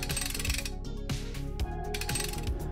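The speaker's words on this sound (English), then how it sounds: "Look at how much faster you can tighten your winch straps with the new Mytee Torque Winch" Mytee Torque Winch being cranked to tighten trailer winch straps with a torque wrench, giving a loud, steady ratcheting clatter of rapid metallic clicks with no talk.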